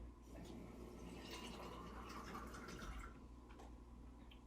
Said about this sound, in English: I filled that up pretty full with water